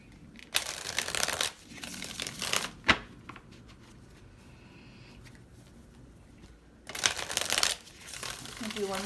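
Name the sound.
shuffling tarot cards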